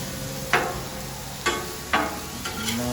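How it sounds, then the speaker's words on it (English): Shrimp frying on a Blackstone griddle while being flipped, a steady sizzle broken by four sharp scraping clicks of a spatula against the metal surface. "let's give these shrimp a flip"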